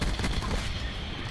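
Rapid gunfire punches through walls in the video game Call of Duty Black Ops 4, a dense and continuous burst of shots at steady loudness.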